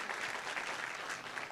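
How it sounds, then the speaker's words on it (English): Brief burst of audience clapping for event staff at an AI Day keynote and faculty panel, a dense even patter heard at a distance. "can we give a clap of hand to the Russell House event staff?"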